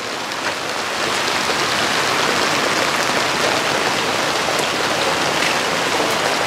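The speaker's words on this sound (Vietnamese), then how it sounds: "Mưa này nước rất là nhiều luôn." Heavy rain in the Mekong Delta countryside pours down in a dense, steady hiss, loud and unbroken, rising slightly after the first second and then holding constant with no voices.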